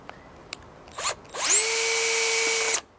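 A power drill drives a number 14 by 2 inch pan head screw into a vinyl fence. A couple of short clicks and brief bursts lead into one steady, high whine of about a second and a half that stops abruptly.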